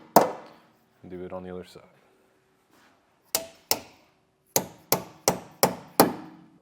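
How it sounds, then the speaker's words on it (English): Hammer giving firm taps to a trailer hitch mounting piece on a 2024 Subaru Ascent: someone speaks briefly first, then two sharp metallic strikes, a pause, and five quick evenly spaced taps close by. "You can just take a hammer, and it doesn't take much. Just give it a couple taps"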